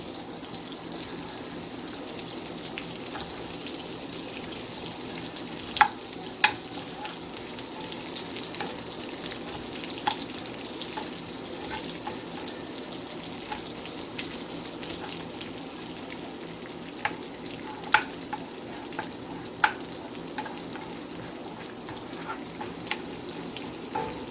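Rice frying with butter in a pan, a steady low sizzle throughout with occasional sharp clicks of a utensil stirring and scraping, fairly quiet and without talk.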